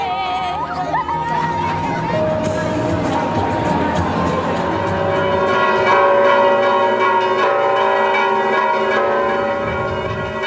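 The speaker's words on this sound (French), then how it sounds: "Le lendemain, réveil au son des cloches." Church bells ring on a Cycladic island on the morning of the 15 August celebrations, layered tones chiming over the murmur and chatter of a crowd around the church.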